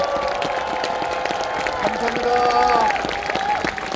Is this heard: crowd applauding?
yes